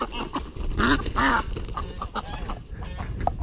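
Ducks in a poultry yard quack and honk close by, a few loud nasal calls in a quick cluster followed by softer scattered quacks, with little background noise.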